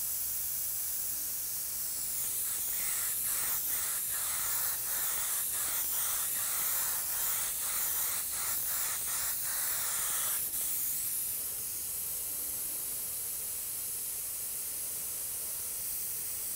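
A small automotive spray gun laying candy paint coats sprays in a steady close hiss, with a run of short pulsed bursts through the middle before settling back to continuous spray.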